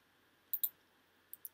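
Computer mouse clicks while working in camera calibration software: two quick pairs of sharp, close clicks separated by a short pause, in near silence.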